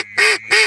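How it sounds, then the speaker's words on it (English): Ducks near a hunting blind give two short, nasal quacks in quick succession, close and loud, with no talk over them. "Frig, they're friggin' ducks."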